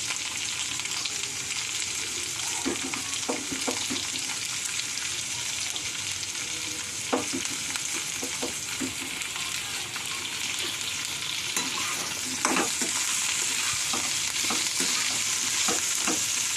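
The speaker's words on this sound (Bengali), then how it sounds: "এর মধ্যে আমি এবার পেঁয়াজগুলো দিয়ে দেবো।" Spring onion bulbs sizzle steadily in a pan with potatoes that are already frying, while irregular scrapes and taps of a spatula mark stirring throughout, with no talk.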